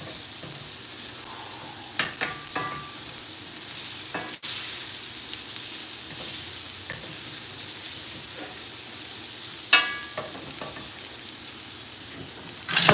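Food sizzling and being stirred around a pan over medium-low heat, a steady frying hiss with intermittent scrapes and clinks of a utensil against the pan, close and alone.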